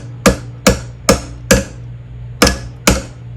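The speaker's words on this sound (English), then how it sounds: "Grab a rawhide mallet or a rubber mallet" A rawhide or rubber mallet taps metal while an infinity necklace is being shaped: six sharp, close, evenly spaced knocks, each with a short ringing decay, over a steady low hum.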